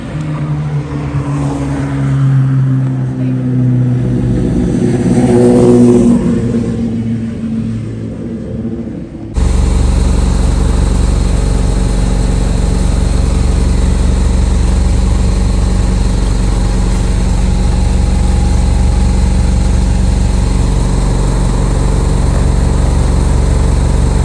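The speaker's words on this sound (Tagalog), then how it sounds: "Yeah, my bus 12:48." A city bus pulls up at a stop in the UK. Street traffic fades and gives way to a loud, steady engine rumble as the bus idles close by.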